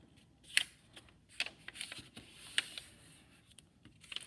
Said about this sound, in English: And I'm going to now fold it diagonally.